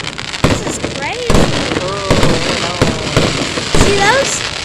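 Fireworks bursting at a Fourth of July night show, with sharp booming explosions and crackles repeating every second or so, loud and close, while several people talk and exclaim over them.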